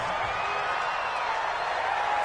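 A stadium crowd in an American football video game roars in a steady, dense wash of cheering and noise, loud and unbroken, with whistle-like tones drifting through it.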